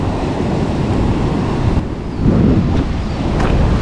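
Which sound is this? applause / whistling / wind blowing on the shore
wind blowing on the shore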